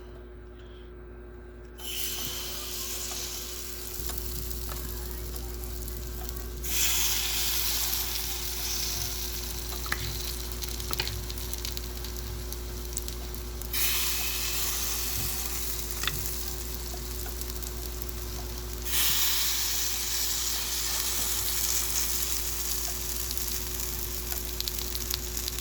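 A mixture frying in a little hot oil in a pan, a loud steady close sizzle that surges and eases in broad waves across the whole stretch, with no talking.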